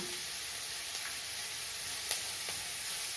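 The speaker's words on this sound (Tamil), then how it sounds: "வெங்காயம் நல்லா வதங்கட்டும் வெங்காயம் வதங்க இப்போ உப்பு சேர்த்துக்கிறேன்" Onions sautéing in a pan with salt added, for an egg pepper gravy; a steady close sizzle and hiss with a couple of faint stirring taps.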